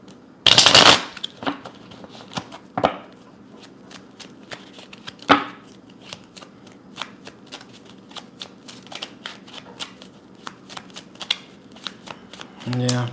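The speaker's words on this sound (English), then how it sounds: "let's shuffle a little bit." Tarot cards shuffled by hand at a reading, opening with a loud riffle burst, then softer, irregular snaps and slides of the deck continuing close by for several seconds.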